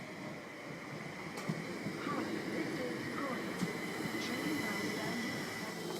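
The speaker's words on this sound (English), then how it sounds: "This is one of only 4 trains that stop at Faygate in a day." A passenger train on the Southern service to Horsham rumbles steadily as it comes into the small rural station at Faygate, with low continuous rolling noise and a few faint squeaks and clicks.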